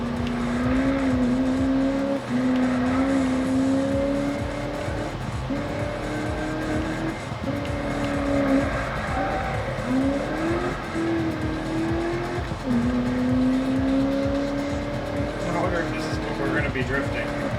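A car drifting in Need for Speed, the engine droning and rising through repeated gear changes with tire squeal, continuous and prominent while a person talks over it.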